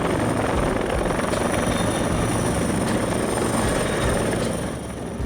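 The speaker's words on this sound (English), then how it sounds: "Firefighting helicopter." Firefighting helicopter equipped with water tanks or buckets for wildfires, flying with a continuous loud rotor and engine roar, steady throughout with a high turbine whine above.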